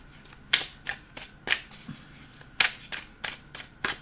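Tarot cards being shuffled close up for a fresh draw, a series of crisp riffling bursts at an uneven rhythm, about ten distinct flurries with quiet gaps between them and no talking.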